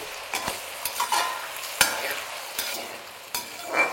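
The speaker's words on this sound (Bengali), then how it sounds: "তারপর একদম হাই ফ্লেমে এটাকে লাল লাল করেই ভেজে নেব।" Potatoes frying in oil over a high flame sizzle steadily while a utensil stirs and scrapes the pan in several sharp knocks.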